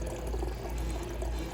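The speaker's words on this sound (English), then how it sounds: "just start draining it from the cold side" Water drains from the cold side of a Bio Quantum water dispenser into a glass, a steady, continuous pour at moderate, even volume with no talking.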